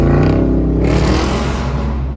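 A Dodge Charger with a 5.7 HEMI V8 revs loudly and close by, a deep steady engine roar that rises and holds for about two seconds with no voices over it.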